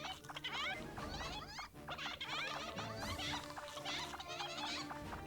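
Cartoonish chicken clucks and squawks from the Chicken Invaders 3 space shooter, dense and continuous over busy game effects and chirps, loud and close with no pauses.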